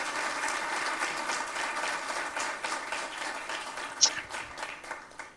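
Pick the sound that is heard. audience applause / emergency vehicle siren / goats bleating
audience applause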